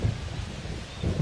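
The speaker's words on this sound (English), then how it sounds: "This rain is not letting up." Heavy rain pours steadily over a baseball stadium during a Mariners–Reds game, a dense low rumbling wash with a couple of deeper swells at the start and end, with no voices.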